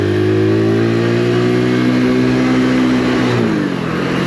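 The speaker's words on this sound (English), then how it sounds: "Now it does feel very nippy in first gear when you're moving off" A Mutt GT SR 125 motorcycle pulls away in first gear, its small single engine buzzing loud and close as the revs hold steady, then drop as it shifts near the end.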